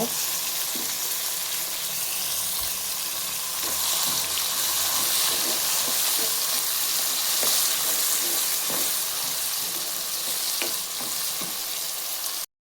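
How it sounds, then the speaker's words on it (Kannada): Vegetables with pigeon pea pods fry in a pan, a loud, continuous sizzle with occasional stirring scrapes and taps, steady throughout and ending abruptly. "ಇದು ಚೆನ್ನಾಗಿ ಫ್ರೈ ಆಗಲಿ"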